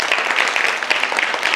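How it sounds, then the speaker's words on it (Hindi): A crowd applauds steadily, dense clapping filling the space without pause, fairly loud and close. "एक बार आप सभी के लिए जोरदार तालियां।"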